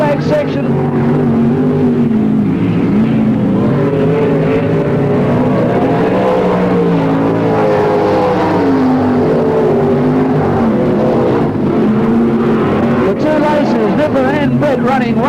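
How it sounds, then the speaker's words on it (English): Sprint cars race in a consolation heat on a clay speedway at PCR in the 1983/84 season, loud engines roaring and droning continuously with shifting pitch as the cars circle the track. "Sprint car consolation time at PCR now"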